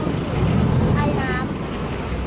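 Long-tail passenger boat on Khlong Saen Saep canal in Bangkok, a steady close engine drone with wind buffeting and water wash, and a voice talking briefly over it.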